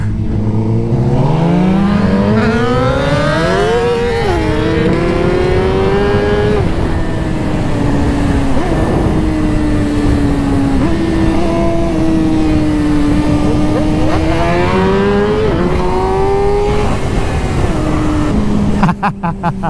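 A high-performance sport motorcycle on a top-speed run, with the engine revving hard and climbing through gears in repeated rising sweeps. The sound stays loud and close throughout.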